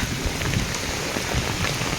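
Rain pours down steadily outdoors, a dense, even hiss of drops on surfaces, loud and close with no voices.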